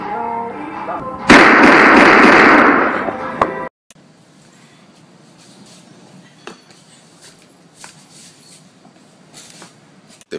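A sharp loud burst of gunfire erupts and rings for a couple of seconds, then fades into quiet rustling and scattered faint knocks.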